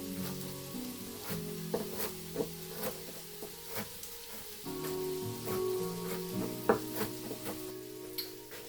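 Onions sweat in a pan as the base for a tomato pasta sauce, giving a steady, faint close-up sizzle with occasional stirring scrapes and ticks throughout.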